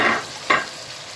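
Grated onion, carrot and tomato go into hot oil with chicken and hit it with a quick, close sizzle and stirring scrape, followed by a second short burst that fades to a soft fry.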